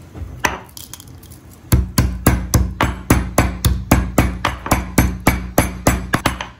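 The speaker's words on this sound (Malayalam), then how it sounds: "4 ഏലക്ക ഒന്ന് ചതച്ചെടുക്കണം." Four cardamom pods being crushed, heard as a rapid, even series of about twenty sharp, loud pounding strikes, close by and with no talk.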